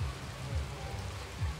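Rain falling in a football video game, a steady soft hiss of rainfall with a low rumbling bed of crowd or ambient noise beneath, continuous and evenly loud throughout.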